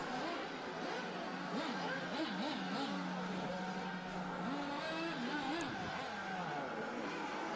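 Nitro RC buggies race around a track with brick paving at a European championship practice session, their high-pitched engines whining and rising and falling continuously, with a voice talking over the steady racing noise.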